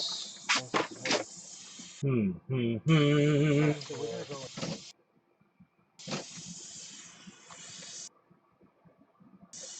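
Airbrush spraying paint onto a T-shirt, a close, breathy hiss in short bursts and longer stretches with pauses between, alongside someone talking.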